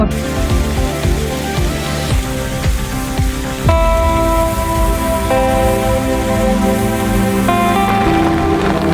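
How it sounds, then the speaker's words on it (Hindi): Heavy monsoon rain falls in hilly country, a dense, loud, continuous wash of water with steady tonal sounds mixed in beneath it, and no voices. "कते वर्षा होछि आगे वर्षा हेछि"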